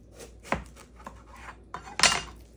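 A knife cuts through a cantaloupe in a home kitchen, giving a few short, close scraping and slicing strokes, with two sharper crunchy cuts standing out among quieter rubbing sounds and no talking.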